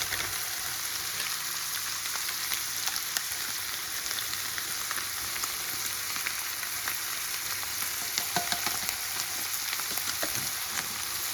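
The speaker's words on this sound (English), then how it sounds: "we're just going to saute that for a little while" Mexican beef mince with taco seasoning sautéing in a pan, giving a dense, steady frying hiss with small crackles and occasional light stirring scrapes, close and continuous with no talk.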